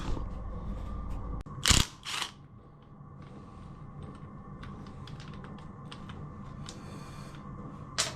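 The gearbox comes off a Royal Enfield engine with a loud metallic clunk and scrape, then a steady low mechanical rumble with scattered light ticks and clicks of parts being handled nearby.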